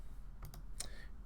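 Short bursts of typing on a computer keyboard: a handful of quick, light key clicks in a quiet room, close and faint, with no speech.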